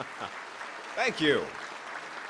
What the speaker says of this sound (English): Don't applaud me.